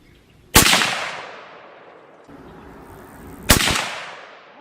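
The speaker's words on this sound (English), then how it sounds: "I want to shoot 2 more while we're out here" Two loud rifle shots from a 300 Win Mag firing Norma Whitetail ammunition outdoors, each a sharp crack followed by a long rolling echo, about three seconds apart.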